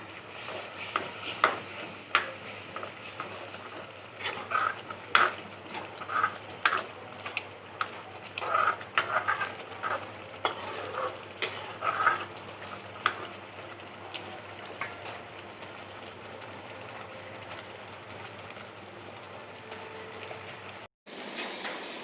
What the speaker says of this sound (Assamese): এতিয়া মই ইয়াতে অকণমান গুড়া জিৰা আৰু অকণমান চিকেন মছলা দি দিছোঁ। ভালদৰে লৰাই লৈছোঁ।